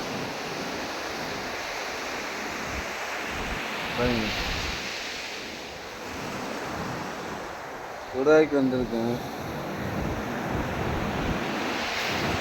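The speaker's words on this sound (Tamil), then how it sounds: "வெயிலெல்லாம் அவ்வளோ சுத்தமாக வருது காற்று, கடல் காற்று பாருங்க." Steady sea breeze and surf rolling in at a seashore, a broad constant wash with wind buffeting the microphone and a brief louder gust; someone speaks briefly over it.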